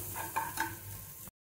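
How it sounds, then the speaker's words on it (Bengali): Spices and mashed green pea paste stirred and fried in a pan for a Bengali kachori filling, with a soft sizzle, a few scraping spoon strokes and clinks, then abrupt silence near the end. "একটু কষে নিতে হবে ভালো করে মশলাটা আর মটরশুঁটি বাটাটা। এটা ভালো করে একটু ভাজা ভাজা করে নেব।"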